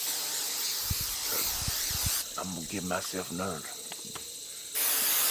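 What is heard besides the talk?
Sawyer's insect repellent aerosol spray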